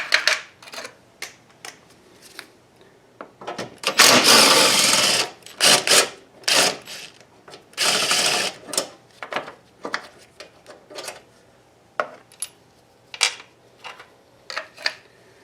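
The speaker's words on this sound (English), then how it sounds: "I will need to remove this 10mm bolt right here that is supporting the airbox." A ratchet works on a 10mm bolt holding the airbox on a Honda 3.0 VTEC engine, making close, sharp bursts of clicking and rattling in uneven runs with short pauses between.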